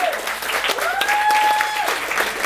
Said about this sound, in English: It's very powerful having so much applause.